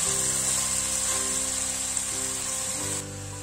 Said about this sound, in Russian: Сладкий перец продолжаем обжаривать вместе с репчатым луком.